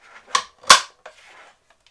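A 4x5 sheet film holder loaded with Instax White film being closed, giving a couple of sharp plastic snaps followed by a softer click and brief rustle, close and clear with no talking.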